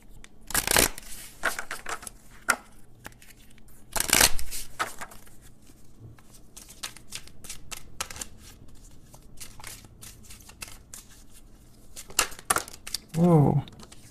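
Oracle cards shuffled for a tarot reading give dry papery riffles and bursts of card flutter, loudest near the start and around four seconds, with quiet handling between and a short voice near the end.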